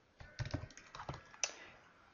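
Fingers type on a computer keyboard in a quiet room, a quick burst of soft clicking keystrokes in uneven clusters, close and faint, with no one talking.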